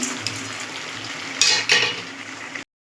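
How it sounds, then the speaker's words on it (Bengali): Metal spoon scraping and stirring ground white sesame and poppy seed paste with sugar in a pan, a quiet sizzle underneath and two sharper scrapes near the middle before it cuts off. "চিনিটা দেওয়ার পর আমরা কন্টিনিউ 6 থেকে 7 বার নাড়বো"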